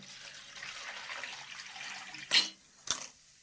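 Energy drink poured out of a container into a sieve, heard as a steady soft liquid splashing and trickling, followed by two short louder splashes near the end.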